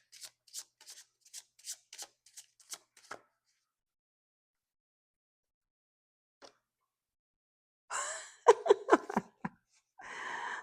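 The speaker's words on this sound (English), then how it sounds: "Let's see if we shuffle and pull a card." A deck of tarot cards is shuffled by hand in short crisp riffling bursts, a quick run of snaps at first, then a pause and a louder, closer flurry of shuffling near the end.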